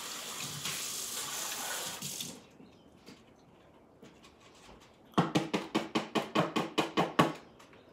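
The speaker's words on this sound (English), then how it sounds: "I'm going to rinse it so we can use some of our purple." Water from a tap runs steadily for about two seconds while a styrofoam bowl or funnel is rinsed, then after a quiet pause comes a quick series of about ten rhythmic splashes or shakes of water, close and fairly loud.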